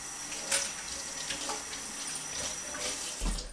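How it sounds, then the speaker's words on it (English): Cans are rinsed under a running kitchen tap, a soft steady stream of water with light splashes and a faint clunk near the end, close and quiet with no voices. "Always rinse your cans off."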